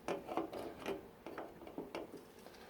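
A small hammer tapping a triangular file to turn the flange of a car fuel pump, giving a series of sharp metallic taps and scraping rasps at an irregular rhythm, close by and moderately loud.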